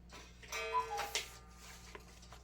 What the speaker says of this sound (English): Oh, I have a cuckoo clock too.